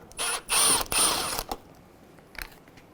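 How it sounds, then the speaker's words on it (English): A T25 Torx driver backing a screw out during radiator replacement on a 2005-10 Volkswagen Jetta, a few short ratcheting bursts close by followed by quiet and a faint click. "Use a T25. Take the screw out of here and then also out of here."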